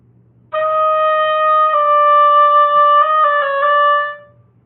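Oboe plays measure 18 of the 2018-19 All-State etude, a sustained solo line of a few clear, steady notes with a shift near the end, close and loud with no talking.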